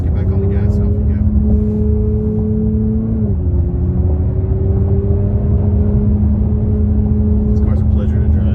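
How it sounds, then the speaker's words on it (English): A 2021 Jaguar F-Pace S R-Dynamic accelerates out of a corner, its engine a loud, steady drone that shifts pitch partway through, with brief voice sounds near the start and end. "Halfway to the turn, just get back on the gas and off we go."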